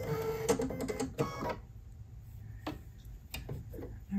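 An embroidery machine loads its thread with a quick flurry of mechanical clicks and whirs, then falls quiet apart from a few scattered ticks, close and fairly soft.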